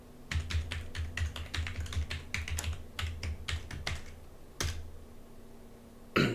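Rapid bursts of keystrokes on a computer keyboard while a password is entered at a Windows Server 2022 unlock screen, close and crisp with short pauses, ending in a single heavier key press.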